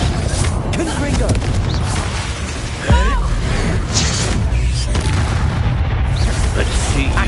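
A Confringo blasting curse explodes in Hogwarts Legacy with a heavy booming blast, surrounded by continuous loud combat rumble and a voice speaking during the fight.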